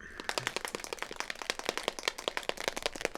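Rapid, rattling metallic knocks repeat in a fast irregular rhythm as a steel nut bounces around inside a shaken tin of primer, close by.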